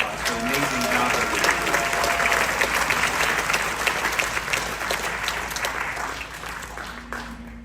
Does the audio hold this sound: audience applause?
yes